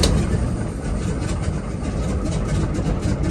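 The radial engine of a de Havilland Beaver aircraft runs close and loud after starting, firing on only a few cylinders, a dense, rough, continuous roar with an uneven pulsing texture.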